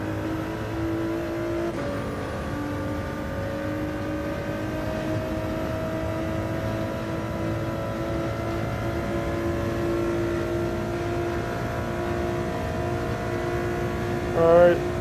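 Ford GT engine in a racing video game holds a steady high revving drone for the whole stretch, with pitch rising slowly and a short dip near the start, loud and close without talk.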